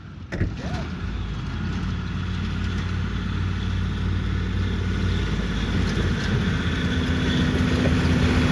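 Engine of an abandoned square-body truck being revived, running as a steady loud mid-low rumble that builds slightly over several seconds, with a brief click at the start.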